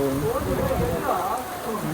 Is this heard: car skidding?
no